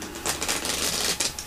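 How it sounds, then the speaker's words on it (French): Playing cards being shuffled by hand, a dense crisp riffling patter lasting a moment and heard close up with no talk over it. "on va mélanger un petit peu les cartes"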